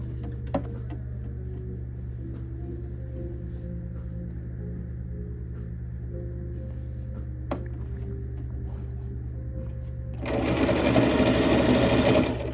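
Sewing machine steadily stitching through fringed fabric, a continuous close mechanical hum running throughout, growing louder and busier near the end.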